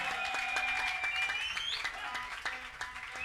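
Congregation in a church clapping and cheering, a dense patter of applause with voices and whistling rising over it, moderately loud and sustained.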